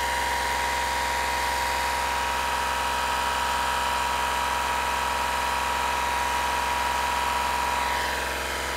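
A 2013 VW Polo 1.2 TDI diesel engine idling, a steady, loud, unbroken rumble held close for the whole stretch with no talk over it.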